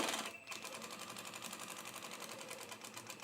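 Sewing machine stitching a shirt seam runs continuously at steady speed after a brief hitch at the start, a dense close mechanical chatter with rapid even needle beats and no speech.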